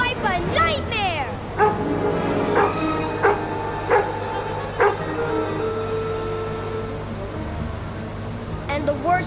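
A three-legged dog barks in repeated short yelps between high, drawn-out whimpers and whines, loud and close, with voices also present.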